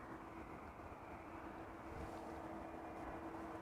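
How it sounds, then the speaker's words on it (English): A Lufthansa CRJ 900 arriving from Munich at Amsterdam Schiphol gives a faint, distant, steady jet engine rumble and whine with no talking. "CRJ 900 arriving from Munich."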